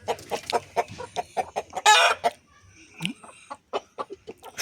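Three hens and a rooster kept at home, giving close, rapid bursts of clucking and squawks with short pauses between them, a brief louder cackle in the middle.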